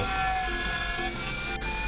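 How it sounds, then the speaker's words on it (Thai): A power drill bores a hole for a large handle in a euro casement window frame, giving a loud, steady high whine close by that barely dips near the end. "อันนี้เราเจาะเพื่อจะใส่ มือจับ DNW ตัวใหญ่นะครับ"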